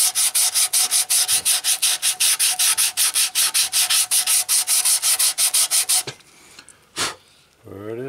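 Rapid rhythmic back-and-forth sanding strokes scrape across guide coat on body filler of a 1977 Camaro Z28 valence, loud and close for about six seconds, then stopping, followed by a few scattered handling noises.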